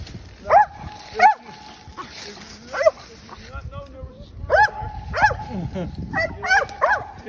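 A young hunting dog barks repeatedly at a fox squirrel up a tree outdoors, sharp yips and bow-wows in irregular bursts, fairly close, with faint background noise between barks.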